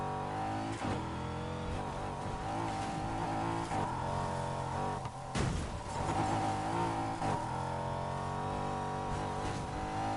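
Steady engine drone of a car driven in the game Need for Speed Heat, held revving with a few brief dips and gear changes, continuous and fairly even throughout.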